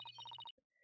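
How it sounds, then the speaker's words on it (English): A phone notification tone plays once, a quick run of bright, even electronic beeps lasting about half a second. A short, faint blip follows, all quiet and close with no voices. "Oh, okay. That's one of my notification sounds."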